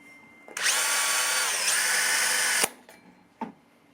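A power drill with a cheap bit whines at high speed for about two seconds as it bores through plastic guttering, then stops abruptly, followed by a short clunk.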